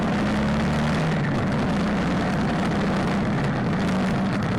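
A Kawasaki Voyager 1700 motorcycle engine drones steadily under throttle while riding, a loud, low continuous hum mixed with heavy wind rush and no talking.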